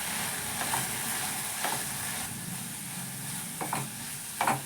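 A tomato gojju mixture with coriander powder and garam masala fries in a pan, a steady close sizzle broken by a few brief stirring scrapes, with no voices.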